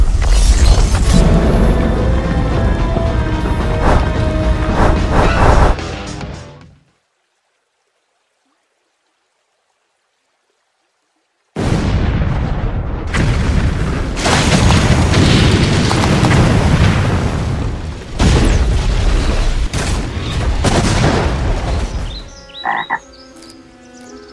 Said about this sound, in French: Des explosions.